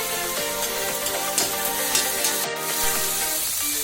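Onion and capsicum frying in a pan at home, a steady sizzle with faint stirring scrapes, close and constant with no talk.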